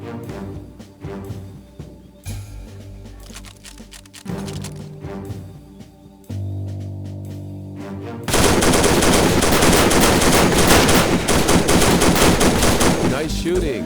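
Machine gun suppressive fire in the WWII strategy game Faces of War, with bursts of gunfire building into a dense, continuous, loud barrage, over game music and effects.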